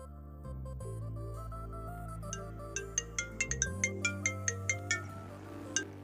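A mobile phone ringtone plays for an incoming call: a sustained synth tone with a melody of bright, evenly spaced plinking notes. It sounds close and clear, with no talking.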